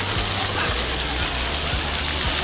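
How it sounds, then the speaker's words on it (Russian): Fountain water jets splash steadily in an outdoor fountain in Korea, a dense continuous hiss with low rumble, close and fairly loud throughout. "Струи воды."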